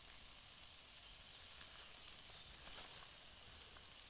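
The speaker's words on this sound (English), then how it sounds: "Here's the sizzle." Steak sizzles on a backyard grill, giving a faint, steady, even hiss that runs unbroken throughout with no voices over it.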